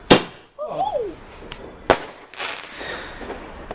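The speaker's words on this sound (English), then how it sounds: "Do some fireworks." Fireworks going off outdoors on Bonfire Night, three or four sharp loud bangs spread over a few seconds with crackling trails, while voices call out and chatter nearby between the blasts.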